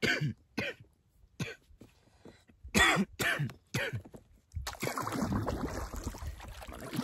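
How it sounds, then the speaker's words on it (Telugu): Several separate coughs and throat clearings from one person on a boat trip to an island on the Kinnerasani, spaced out and close, followed by steady water and boat noise. "నా దగ్గు సౌండే మాత్రం బాగా విపరీతంగా వినబడుతూ ఉండొచ్చు."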